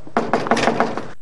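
Someone raps on a door in a drama scene, a quick run of about six firm knocks close by and fairly loud, with no voices.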